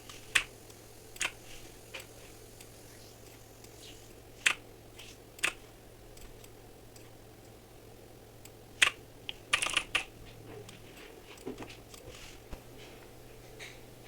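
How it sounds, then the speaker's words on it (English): Scattered, sparse key presses on a computer keyboard, soft clicks at irregular intervals, with a brief cluster of taps, over a faint steady hum. "hitting delete on my keyboard"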